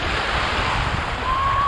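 Sea surf washes steadily onto a beach at Beldibi, Turkey, as a continuous broadband rush at close range, with wind buffeting the microphone throughout.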